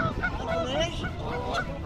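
Angry geese confront a rhino at a zoo, honking loudly in close, repeated nasal blasts with a voice faintly audible beneath.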